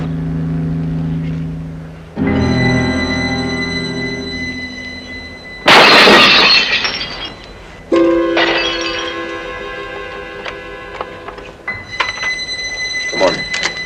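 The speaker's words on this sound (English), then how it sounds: "I'm going to break some glass." Glass shatters in a dramatic scene, with a loud burst of breaking and tinkling shards set against tense musical tones, followed by further crashes and clinks as pieces fall.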